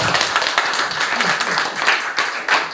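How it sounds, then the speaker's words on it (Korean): A live lecture audience applauds together, a dense steady wash of many hands clapping for nearly three seconds, close and fairly loud, with no talk over it. "박수 한번 주세요"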